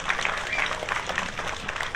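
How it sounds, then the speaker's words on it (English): Audience applause at an outdoor car-show awards ceremony, the 2022 Concours d'Lemons in Monterey, California, for a Krautenwagen award winner; steady, moderately loud clapping from a crowd with a few voices mixed in. "Big round of applause for our self-satisfied Krautenwagen winner."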